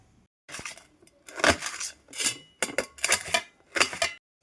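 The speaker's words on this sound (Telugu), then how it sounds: "ఒక ఎర్రగడ్డ కోసుకుందాం." A knife chops through a red onion on a cutting board in a series of close, crisp cuts and thuds, separated by brief pauses, with no talking.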